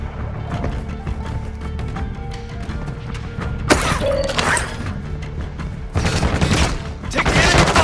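Enemy gunfire in Call of Duty DMZ: scattered shots and bursts crack through a busy game mix, growing denser and louder toward the end, with voices briefly heard.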